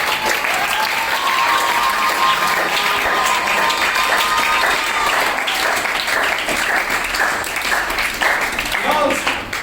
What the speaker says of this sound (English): Girls clap louder.